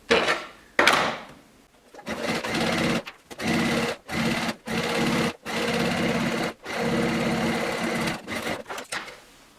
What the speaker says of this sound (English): Gonna sew it all the way down here towards the fold.